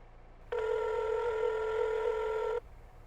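A phone in an MTA roleplay video game rings with a single sustained electronic tone lasting about two seconds, clear and close against a quiet background.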